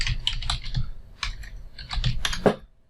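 Computer keyboard typing a Java command, a quick irregular run of close, crisp key clicks over about three seconds with short pauses, no voice.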